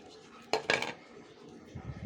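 A spoon clinks and scrapes against a vessel while raw tamarind chutney is mixed with peanut powder, two quick metallic knocks followed by a faint shuffle, all close and quiet.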